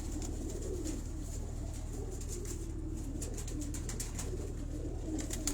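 Pigeons coo softly and repeatedly over a steady low hum, gentle throaty murmurs continuing throughout with faint chirps higher up.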